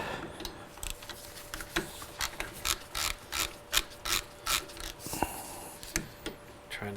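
A ratchet wrench clicks in quick bursts while 10mm bolts are loosened from the plastic air-directing cover on the front end of a GSX-R750 motorcycle, close and fairly quiet, with short pauses between runs of clicks.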